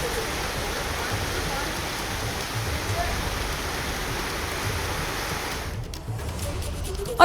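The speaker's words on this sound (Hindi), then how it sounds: "बाजारों में बारिश का पानी दरिया की तरह बहता नजर आया।" Heavy rain with floodwater rushing through market streets, a dense steady roar of water that fills the whole stretch, constant and loud with no breaks.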